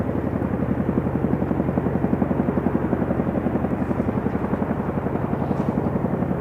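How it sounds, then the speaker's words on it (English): Chinook helicopters lowering M777 howitzers during an Indian Air Force exercise in Rajasthan give a loud, steady rotor thump, a fast even pulsing that holds throughout with no voices. "you can see the Chinook helicopters lowering the M777 guns"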